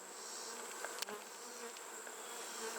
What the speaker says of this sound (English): This is how mean these bees are.